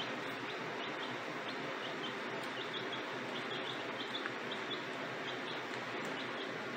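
Newly arrived chicks give faint, rapid high peeps scattered through the clip, set back from the listener under a steady, even background hiss.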